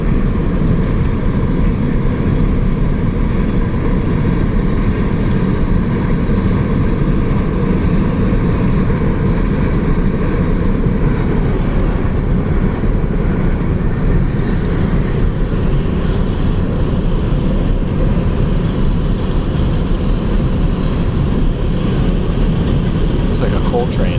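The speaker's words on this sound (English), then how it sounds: "Like a coal train." A coal train rolls across the Meramec River Bridge in St. Louis County, a steady loud rumble of wheels and cars holding for the whole stretch, with people talking over it.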